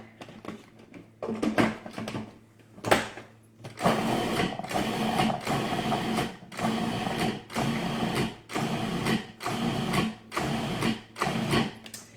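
Food processor pulsing the ingredients for almond sweet potato hummus, including cumin: a series of short motor bursts that start irregularly, then settle into a steady rhythm of roughly one-second pulses, loud and close, with no voices.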